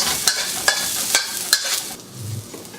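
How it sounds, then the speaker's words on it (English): Aromatics and celery stir-fried in a hot pan, a steady sizzle broken by four sharp scraping clatters of the spatula, then the sizzle eases off near the end. "So when you put the heat on the aromatics, it'll bring out the fragrance and the flavor. So stir fry that for about 20 seconds."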